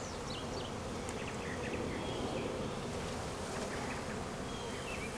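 Honey bees swarm around an open beehive during a spring hive inspection, producing a dense, steady buzzing drone with individual bees whizzing close past the microphone.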